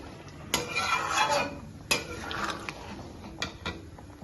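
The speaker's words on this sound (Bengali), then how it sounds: "এবার খুব আলতোভাবে পনিরগুলো নাড়তে হবে।" Paneer cubes gently stirred in a pan of butter masala gravy, with soft scraping and a few light clinks of a spoon against metal, quiet and close.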